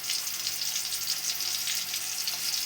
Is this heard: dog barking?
no